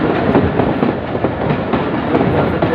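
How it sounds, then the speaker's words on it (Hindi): A train rolls through the Bolan valley, its steady loud rumble and rhythmic clickety-clack of wagons filling the air continuously and close by, with no talking. "यहाँ से ट्रेनें जाती है"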